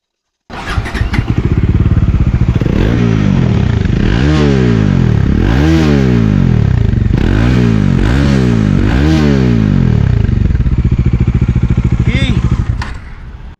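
Bajaj Dominar 400 motorcycle with a 400 cc engine starting up and idling, then revved repeatedly in a series of rising and falling throttle blips, loud and close.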